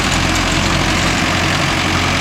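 A Mahindra Arjun Novo 605 DI tractor engine runs close and loud among coconut trees, a steady heavy diesel rumble with no break.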